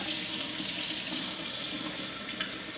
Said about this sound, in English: And I'm actually going to collect some tap water.